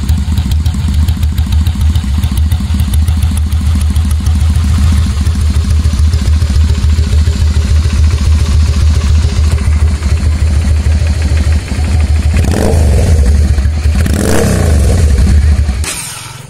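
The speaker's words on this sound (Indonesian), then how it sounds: "Tuh, coba dirasakan suara knalpotnya." A 2002 Honda Shadow 400cc motorcycle idles with a steady, loud exhaust burble, rising into a few sharp revs near the end before settling, heard up close and alone.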